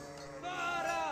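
Sheep bleating in the Age of Empires strategy game, a single wavering bleat swelling in over about a second, fairly clear amid faint game ambience.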